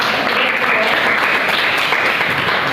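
Classroom students clap together in a steady, dense burst of applause that holds at an even level throughout, with no talk over it.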